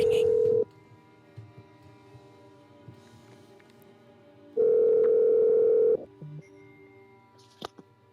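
An outgoing call rings back through a phone line as two long steady tones separated by a quiet gap, with faint background noise and small clicks between them.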